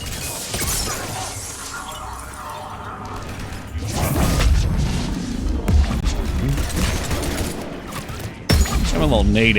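Grenade blasts and rapid gunfire from Mass Effect 3 combat, loud and dense, with crashing bursts building through the second half over game speech.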